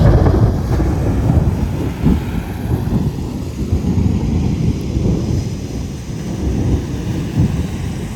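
Continuous deep rumbling of thunder during a lightning storm in Houston, Texas, loud and sustained with rolling low-end swells and some wind buffeting the microphone.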